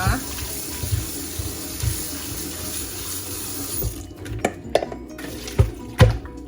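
Tap water runs and splashes into a sink over potatoes being washed for several seconds, then shuts off, followed by a few scattered knocks and clatters.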